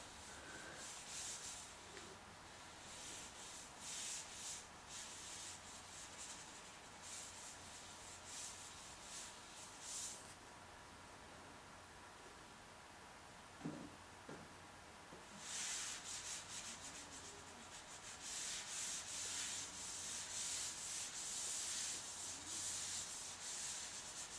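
Scraping and wiping excess drywall compound off an external wall corner during skim coating, heard as long, steady rubbing passes with a quiet gap midway and a few light knocks, close and alone.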